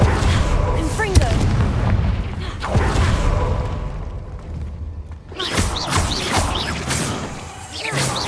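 A Confringo fire spell blasts in Hogwarts Legacy, sudden booming impacts and crackling bursts recurring over several seconds amid game effects and a spoken line.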